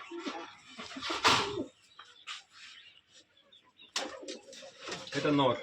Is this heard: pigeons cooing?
yes